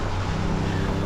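Toyota GR Yaris sliding on a wet road after an e-brake pull, a steady close engine drone with low rumble and a broad hiss of tires and spray, continuous and loud for its whole brief length.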